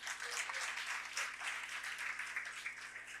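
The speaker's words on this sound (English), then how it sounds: "Let's give her a round of applause as well." Audience applause for a founding executive director at a changemaker honoree event, a steady dense wash of many hands clapping at moderate distance, sustained evenly with no voices on top.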